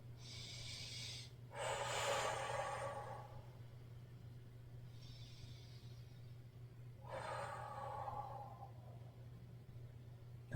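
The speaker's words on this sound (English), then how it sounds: "2 more deep breaths." Slow, deep breaths during a forward-fold stretch in a beginner golf core workout: several soft inhales and exhales spaced a few seconds apart, faint and close, over a low steady hum.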